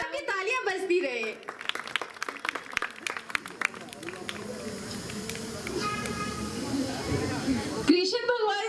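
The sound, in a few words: audience applause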